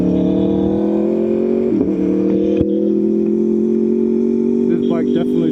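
2018 Aprilia Tuono V4 1100 Factory motorcycle engine droning steadily while riding through a neighborhood, a smooth sustained hum with slight pitch shifts, brief mechanical clicks, and a voice speaking over it toward the end.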